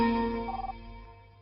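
A home landline telephone rings loudly and close by, a short electronic trill fading out within about a second and a half.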